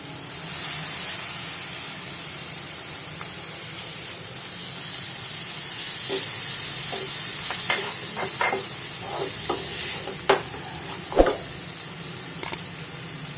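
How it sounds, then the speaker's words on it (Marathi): Chopped tomato frying in oil in a pan for pav bhaji, a steady soft sizzle and hiss running throughout, with occasional spatula scrapes and clinks against the pan near the end. "आता आपण ह्याच्यात बारीक चिरलेला टोमॅटो घालणार आहोत"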